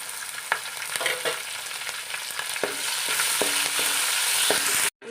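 Seven chopped green chillies and curry leaves sizzle steadily in hot oil for an Onam ginger curry, a close, dense crackle broken by scattered clicks of stirring, ending abruptly.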